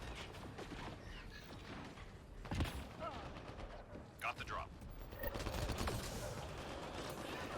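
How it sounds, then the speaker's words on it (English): Assault rifle and shotgun fire in the Mass Effect Andromeda video game, scattered shots and bursts at moderate level with a few sharper blasts, mixed with game effects and occasional speech underneath. "I actually ran out of ammo on my assault rifle there, so my player automatically switched to his shotgun, which is his backup weapon"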